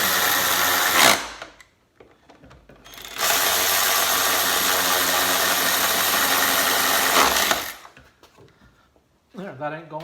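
A ratchet tightens the air cleaner on a Mazda Miata, giving two bursts of rapid close clicking, a short one and then a longer steady run of about four seconds, with brief quiet gaps between.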